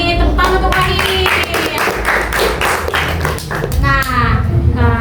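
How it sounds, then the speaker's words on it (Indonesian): Class clapping for a student in an Indonesian classroom, a loud close burst of hand claps with children's voices over it. "Tepuk tangan untuk Wahid."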